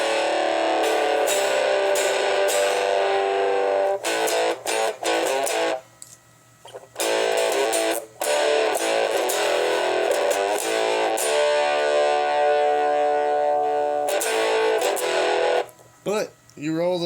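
Harsh, buzzing distorted electronic tone from a circuit-bent weather radio, droning steadily with a few brief cutoffs, loud and close throughout.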